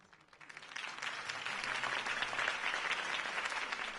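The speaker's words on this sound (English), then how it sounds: "could have heard that applause" A crowd's applause swells from scattered claps into steady, dense clapping that keeps going, full and moderately loud.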